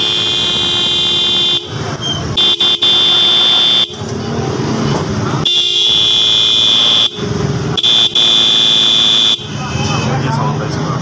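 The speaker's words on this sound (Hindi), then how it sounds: "ये स्विक का बिल्कुल ओरिजिनल काबली हॉर्न है, जिसको लो हाई मुकम्मल पेयर कहते हैं।" Original Kabli low-high paired horn from a Honda Civic, sounding in repeated blasts of a couple of seconds each with short gaps between them, loud and close, a steady two-tone blare.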